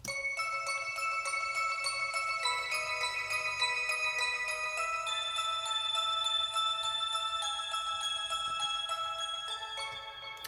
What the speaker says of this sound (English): The next element in this track I'm going to discuss are the bells.